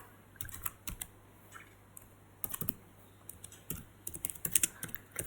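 Fingers typing code on a computer keyboard in irregular bursts of clicky keystrokes with short pauses, close and quiet, with no talking.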